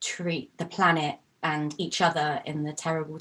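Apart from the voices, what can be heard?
None of the usual background noises is heard.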